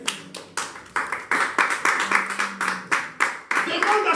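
A church congregation at a Sunday service clapping in a steady rhythmic beat, a little over two claps a second, loud and close, with voices talking and singing underneath.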